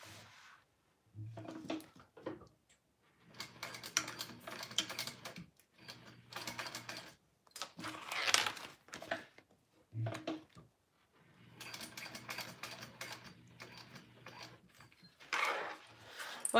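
A sewing machine stitches a crossbody bag in several separate bursts of rapid mechanical stitching, each run stopping and starting, with quiet handling sounds in the gaps.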